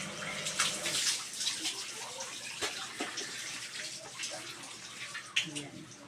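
Cold water gushes and splashes from a hand water pump while someone bathes outdoors, an uneven run of pours and spatters near the listener with a voice speaking briefly.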